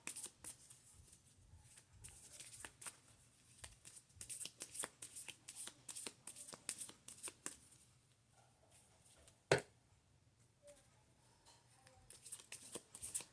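A deck of tarot cards is shuffled by hand in continuous rapid riffling bursts, close and fairly quiet, with a brief pause and a single sharp knock before the shuffling resumes.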